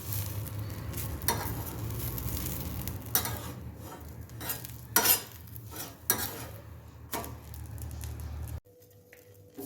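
Dosa batter sizzles on a well-seasoned iron tawa, a steady close frying hiss with scattered scraping and utensil clicks, ending in a brief quieter stretch.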